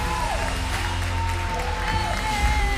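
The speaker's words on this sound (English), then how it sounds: "Give them a round of applause, ladies and gents." An audience claps and gives a few cheers as the winner of a competition is crowned. The applause holds steady throughout, mixed with sustained musical tones and some indistinct voices.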